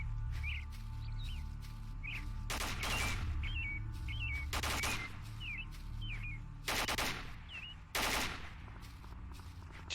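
Repeated bursts of gunfire in the post-apocalyptic shooter Stalker Misery, loud broadband cracks at irregular intervals over a steady ambient drone with chirping birdlike calls in between.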